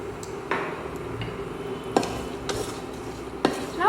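Cumin seeds, a bay leaf and cashews are stirred in a pan with a spoon, giving a few scraping knocks and light clinks against a steady low sizzle, close and alone.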